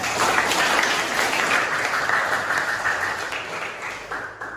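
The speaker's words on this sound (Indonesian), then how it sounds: "Tepuk tangan untuk Rizal." A classroom full of students claps steadily for several seconds, dense and fairly loud, tapering slightly toward the end.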